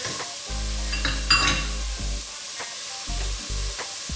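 Chopped garlic and grated fresh root ginger sizzle in a pan for a red lentil dhal, with a close steady fry, soft stirring taps and a low hum running beneath.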